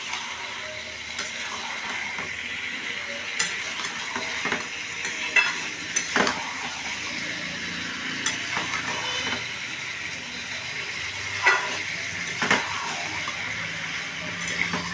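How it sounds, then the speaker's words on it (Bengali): Jackfruit and potato pieces are stir-fried with spices in a pan, a steady close sizzle with regular scraping strokes of a spatula running the whole time and no talking. "এঁচোড়টাকে ভালো করে কষাতে হবে"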